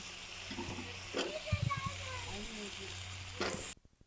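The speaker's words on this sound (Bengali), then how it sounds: "এ পর্যায়ে আমি সিম আর আলুটা ঢেলে দিচ্ছি" Flat beans and potatoes tipped into a pan of sizzling cooked spice paste, a soft ongoing sizzle with a few clattering thuds and scrapes as the vegetables land, under a quiet background voice.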